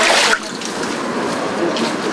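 Sewage water flooding a basement in an apartment building, heard as a steady wash of running, trickling water, with a louder gush at the very start.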